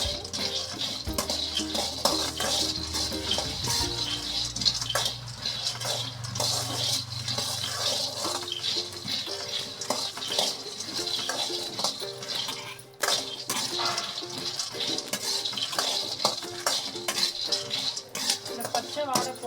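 Peanuts roasting in a pan while being stirred continuously for a kozhukattai recipe, a steady close rattling and scraping of nuts and utensil against metal.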